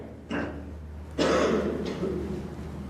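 A child coughs in an indoor audience during a religious talk session for kids, with a couple of short throaty coughs and throat clears close by and no talk over them.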